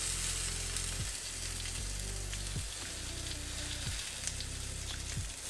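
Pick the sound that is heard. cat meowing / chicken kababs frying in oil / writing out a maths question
chicken kababs frying in oil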